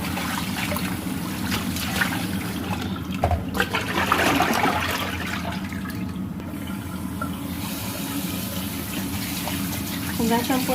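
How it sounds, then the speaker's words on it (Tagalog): Raw pork ribs are rinsed under a running kitchen tap, a steady splash and trickle of water with occasional louder bursts as the meat is handled, while a person talks in the background. "hugasan po muna natin yung ating mga ribs na karne"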